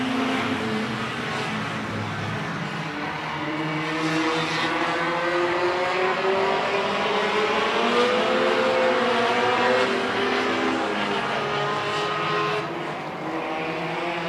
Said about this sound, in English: Here comes Adam Moore trying to get around that Bodendorfer car and having a bit of a time doing it